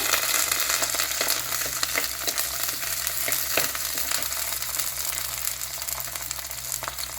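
Mustard seeds, shallots and curry leaves fry in hot oil for a mutton gravy, giving a loud, dense, continuous sizzle with scattered crackles and pops close by.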